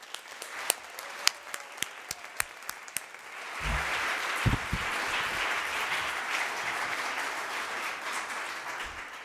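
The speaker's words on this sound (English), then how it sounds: "she deserves a real Dartmouth hand of applause." Crowd applause at the Dartmouth 250th anniversary kickoff celebration: a few sharp, separate claps ring out first, then the audience joins in a fuller, steady wash of clapping that continues to the end.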